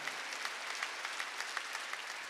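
A church congregation claps during a Wednesday worship service: a soft, even wash of many hands heard at a distance, ending in a sudden louder burst.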